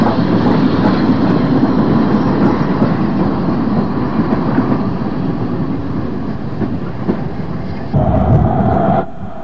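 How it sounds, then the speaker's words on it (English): An unrebuilt Battle of Britain class steam locomotive, number 34075 264 Squadron, runs in a loud, steady rumble with faint rail clatter, its tone shifting briefly near the end. "This is unrebuilt Battle of Britain class number 34075, 264 Squadron."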